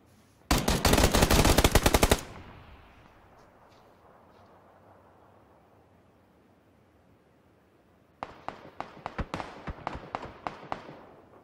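Gunfire in the video game PUBG: a loud, close burst of rapid shots in quick succession, then a long quiet gap before a second run of sharp, evenly spaced shots.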